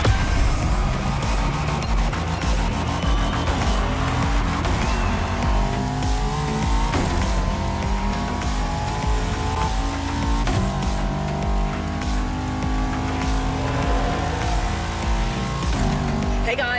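A Bugatti Veyron Barchetta hypercar's engine roars continuously in The Crew Motorfest, loud and dense throughout, with shifting revs and tire noise blended into a busy game soundtrack.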